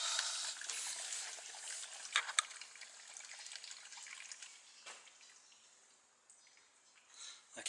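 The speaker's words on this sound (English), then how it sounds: "I haven't turned it on a lot, so that's why it's just trickling." Water trickling through the chambers of a newly installed RODI filter, a faint steady dribble with small splashy bursts that fades toward the end.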